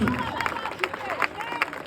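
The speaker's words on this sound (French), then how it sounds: "Par applaudissement qui aime sa mère dans la salle" Audience at a live comedy show clapping and cheering together, a dense crowd applause with scattered sharp claps and a murmur of voices, loud and close throughout.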